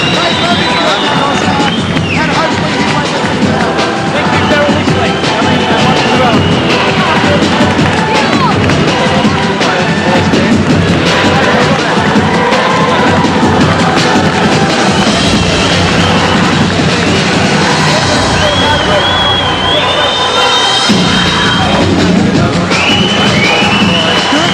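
A boxing arena crowd cheers loudly and continuously for Gurkan Ozkan, a dense roar of shouts and babble that stays high throughout. A commentator talks over it.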